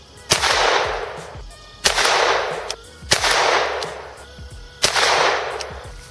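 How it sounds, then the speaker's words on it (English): A shotgun fires .22 caliber pellets in four loud, sharp blasts spaced one to two seconds apart, each followed by a long echoing tail outdoors. "After that, we'll take 5 shots and we'll see kind of where they're placing on the target."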